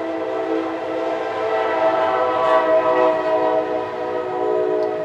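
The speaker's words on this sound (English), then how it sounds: "Kansas City Southern Railroad." A Kansas City Southern Railroad train horn blares in one long, steady, loud chord that holds for several seconds over a low rumble of the passing train.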